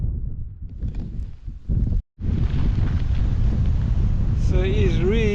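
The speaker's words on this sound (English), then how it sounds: "So it is really windy, ridiculously windy." Strong gusting wind buffeting the microphone outdoors on a Colorado bike route, loud low roaring with choppy bursts, a brief dropout, then continuous rumble while a voice speaks over it near the end.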